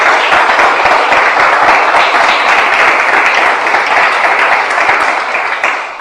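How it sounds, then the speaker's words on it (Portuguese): A church congregation applauds loudly and steadily, dense sustained clapping that holds for several seconds before easing slightly at the end. "Vamos começar aplaudindo a Jesus"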